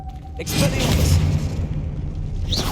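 An Expelliarmus spell fires in Hogwarts Legacy: a sudden burst with a sharp whoosh and a deep rumbling boom that sustains and then eases, ending in a short bright zap.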